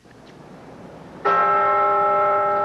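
The centennial bell at Independence Hall in Philadelphia strikes once during the 1987 bicentennial ceremony for the US Constitution. After quiet crowd ambience, the loud, clear toll rings on with a sustained, shimmering hum.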